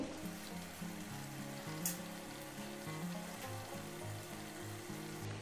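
Pre-fried fish goes into a pan of potatoes and cauliflower that are nearly done frying, giving a steady, soft sizzle with a faint low bubbling underneath and no talking.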